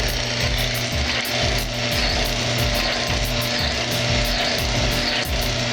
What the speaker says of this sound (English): And I am just absolutely cranking on this thing.